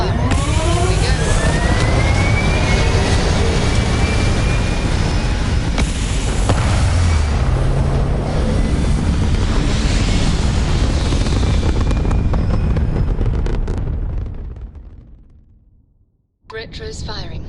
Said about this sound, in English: Engines firing. Here we go.